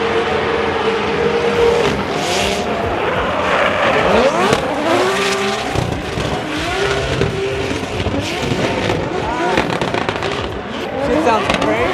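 Turbo BMW E46 M3 drift car runs at a Formula Drift event, with engine roaring and revving alongside long squealing tire slides and crowd noise, continuous and loud, with people talking over it.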